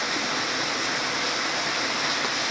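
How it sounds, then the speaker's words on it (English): Rain pours down in a loud, steady, unbroken hiss that fills the whole moment, with no pauses or other sounds. "I apologize for the rain noise,"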